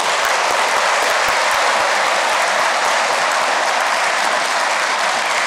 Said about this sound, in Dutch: Mijn collega zou ook best een kleine applaus hebben.